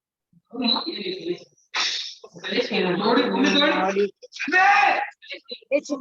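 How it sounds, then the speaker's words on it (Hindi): Someone shouts loudly into a microphone during an online group call, harsh and close bursts of voice with brief gaps between them. "चिल्लाओ मत रे।"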